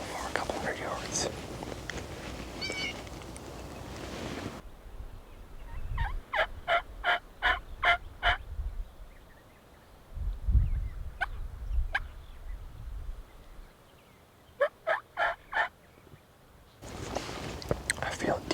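Wild turkeys gobble from a field a couple hundred yards off in Nebraska, rapid rattling calls in short bursts, moderately distant, with whispered voices before and after.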